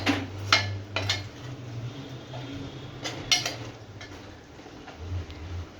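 Masala with turmeric and coriander powder being stirred and sautéed in a pan for paneer masala, with scattered metallic clinks and scrapes of a spoon against the pan over a low background hum, no voices.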